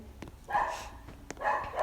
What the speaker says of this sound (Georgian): ჩემი ძაღლი გაგიჟებულია